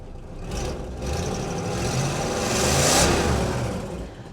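A heavy vintage V8 car engine at a French agricultural and automobile museum revs in swelling waves, rising to a loud peak near the end before easing off, close and without voices.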